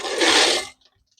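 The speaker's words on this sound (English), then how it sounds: "Pour our beans in here." Beans poured into a pressure cooker make a loud, close rushing pour lasting well under a second, then it cuts off abruptly into near silence.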